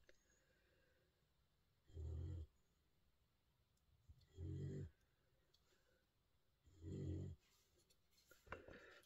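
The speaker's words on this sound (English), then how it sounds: "snoring away already" A pet dog snores nearby in slow, regular rhythm, three loud rasping breaths spaced a few seconds apart over quiet room sound, with a softer fourth at the end.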